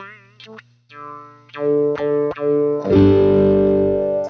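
An electric guitar runs through an Ibanez/Maxon AF-9 filter pedal set to high pass, with a few picked notes, then a hard strum that swells with low end before the filter thins it out, loud and close.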